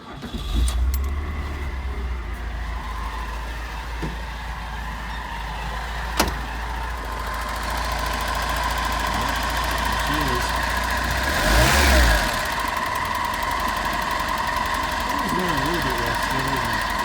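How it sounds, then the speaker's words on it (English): A 1980 Fiat 124 engine idles smoothly and steadily up close, with a slight rise in engine note partway through. "with this plugged in, we have a smooth running engine"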